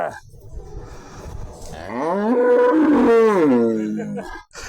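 A cow lets out one long, drawn-out moo that swells and fades, close by, after some quieter sounds.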